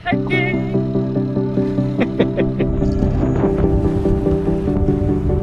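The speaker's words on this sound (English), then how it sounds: "Beautiful tucked away anchorage, but it's very windy." Strong wind at a sheltered anchorage off the island of Fatu Hiva, buffeting loudly and continuously around a sailboat, with steady tonal hum and occasional knocks and rattles from the boat.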